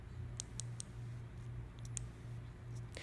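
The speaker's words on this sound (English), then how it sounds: "If you hear a clicking noise," A battery-powered spark generator igniter on a gas grill gives faint, quick clicks in short bursts, close and quiet over a low hum.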